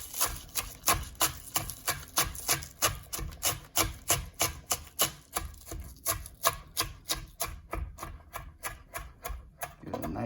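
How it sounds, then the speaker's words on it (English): A knife chops scallions on a cutting board in a quick, steady rhythm of crisp taps, roughly three strikes per second, close and clear with nothing else over it. "Some scallions. And just cut it, get a nice chop"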